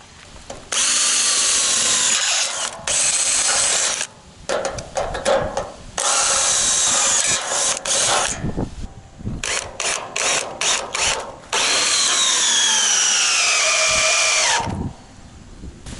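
A power drill drives long screws through doubled pressure-treated wood into a stump for a DIY solar array ground mount, in loud whirring, ratcheting bursts of a few seconds each, separated by short pauses and stutters.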